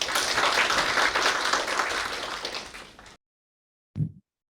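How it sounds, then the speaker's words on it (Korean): An audience applauds at a university and city forum in Korea as a speaker is introduced, with dense clapping that fades gradually and cuts off, followed by a brief thump after a short silence. "큰 박수로 부탁드립니다."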